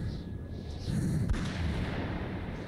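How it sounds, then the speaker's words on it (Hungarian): Gunfire in the Metro 2033 game crackles in muffled, distant bursts with a sharp report near the middle, sounding over dull background rumble. "Valaki itt lövöldözik."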